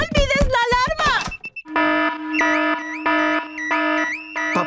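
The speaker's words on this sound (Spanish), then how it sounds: "¡Papá Cerdito encendió la alarma! El ruido despertó a todo el vecindario." A cartoon car alarm in a Peppa Pig episode sounds as a loud, repeating electronic siren that rises and falls in regular pulses, after a brief burst of animated voices.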